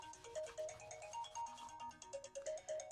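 A phone rings with a bright electronic melodic ringtone, repeating pulses at moderate volume with no one answering.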